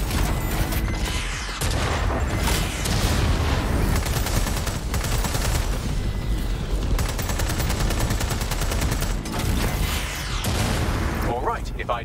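Gunfire and explosions from the video game Watch Dogs Legion, dense and loud bursts of shots running almost continuously throughout with a person talking over the action.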